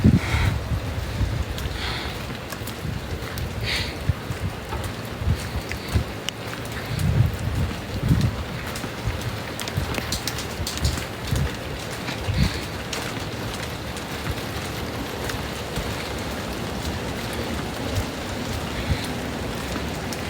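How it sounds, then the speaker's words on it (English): Rain falling outdoors, a soft steady patter with scattered heavier drops and occasional low thuds, fairly quiet and continuous with no talk. "I can't stand the rain. That's like totally wet through."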